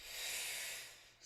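A long, steady breathy exhale during a Pilates exercise, close to the microphone and fairly loud, swelling quickly and then fading, with no talking.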